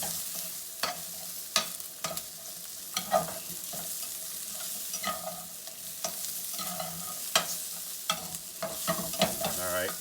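Chopped onion sizzling steadily in a hot pan while a utensil stirs and breaks it up for a pork steak in peanut curry, with sharp scraping clacks recurring over a constant frying hiss.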